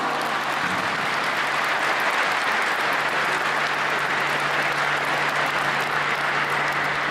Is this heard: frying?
no